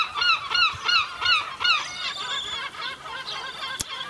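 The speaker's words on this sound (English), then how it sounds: "You may have to get used to the seagulls if this is your first time." Repeated honking bird calls ring out nearby in a quick series of five or six sharp cries, then fainter, overlapping calls trail off, with a single sharp knock near the end.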